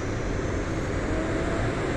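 A military fighter jet in the DCS flight simulator game gives a steady, dense engine roar that stays loud and unbroken throughout, with no talking.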